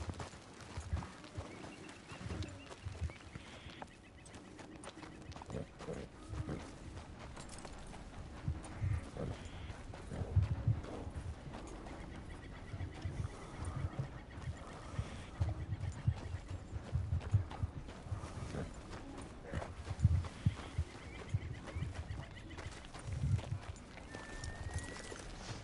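Horse hooves clip-clopping in Red Dead Redemption 2, a steady faint walking rhythm of hoofbeats over a constant ambient background, with occasional whinny-like sounds.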